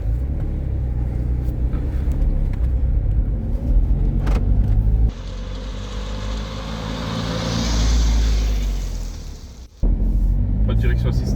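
A new coupe car drives along the road, its engine rumbling steadily up close from inside the cabin before easing off and building again, with a short gap near the end.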